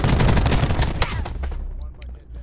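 Rapid shotgun blasts and gunfire from a Black Ops 4 multiplayer Hardpoint match on Payload, a dense burst of loud, overlapping shots that thins out toward the end with faint game voice chatter underneath.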